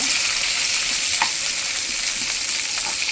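Onions and tomatoes fry in oil for a fish pulusu masala, a loud continuous sizzle with a few faint clicks of stirring mixed in, and no voices.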